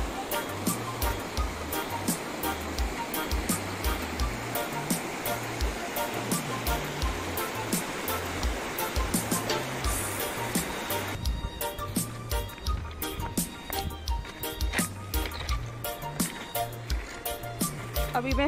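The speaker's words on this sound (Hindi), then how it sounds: "कितनी प्यारी नदी, साफ पानी।" Clear river water rushing over stones at Maldevta near Dehradun, Uttarakhand, a steady broadband wash of flowing water that holds loud and continuous throughout, with no talk over it.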